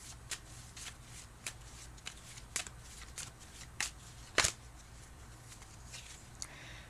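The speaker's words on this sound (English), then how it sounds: "I'm going to keep shuffling so that we get 1 card" Tarot cards being shuffled by hand, soft riffling and slapping bursts at irregular intervals, close and quiet, with one louder snap partway through.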